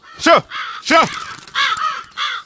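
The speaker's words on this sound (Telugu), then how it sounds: "కాకులు" Crows caw loudly and close by: four harsh, rasping calls spaced about half a second apart, each one rising and then falling.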